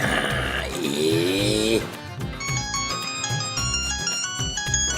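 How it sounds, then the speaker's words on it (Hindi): A phone ringtone plays loudly, starting with a warbling sliding tone and then a repeating electronic melody. "ये किसकी कॉल आ गई?"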